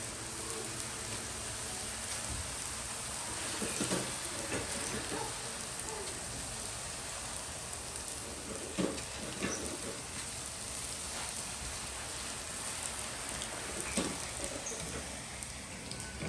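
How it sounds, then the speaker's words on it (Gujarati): Puris for pani puri deep-frying in hot oil, a dense continuous sizzle and crackle with scattered sharper pops throughout, fairly loud and close, no voices. "ગોલ્ડન બ્રાઉન ફ્રાય કરી લેવાની"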